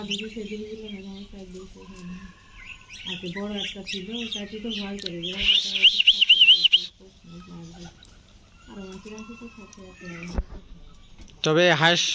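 Ducks quack and ducklings peep in bursts on a village farm, some close and shrill, while a person talks over much of it.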